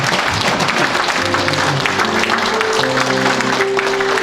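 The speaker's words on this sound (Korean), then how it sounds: "모두 함께 이렇게 박수를 좀 보내주시기 바랍니다." At a 50th-anniversary ceremony of the Syngman Rhee founding-president memorial association, the audience claps loudly and continuously for the standing staff, a thick wash of hands with sustained musical tones sounding beneath it.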